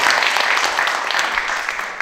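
An audience at a Korean art-song singing gathering applauds to welcome guests, a full, steady round of clapping that tapers slightly near the end.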